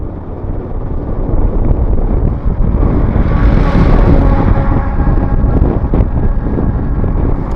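A motorbike rides along a road through the green Joypur forest, its engine a steady, loud drone blended with heavy wind buffeting across the whole stretch, with no talk.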